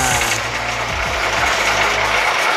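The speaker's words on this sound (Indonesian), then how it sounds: "Coba kita masukkan ke mesin amplas." A sanding machine grinds split bamboo with a loud, continuous mechanical buzz and a low motor hum that holds steady throughout.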